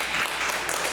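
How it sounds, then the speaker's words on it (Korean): Church congregation applauding after a call to clap for the elders, a dense, steady wash of clapping throughout, loud and close with no talk over it. "우리 장로님과 두 분 박수 한번"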